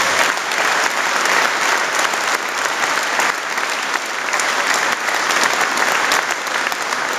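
A rugby crowd gives player Jet Fraser sustained applause, a dense, loud wash of clapping that holds steady throughout with a faint murmur of voices underneath.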